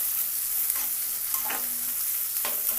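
Onion pieces fry in a hot pan for an egg tomato curry, a steady close broadband sizzle with a few brief stirring scrapes over about three seconds and no talk.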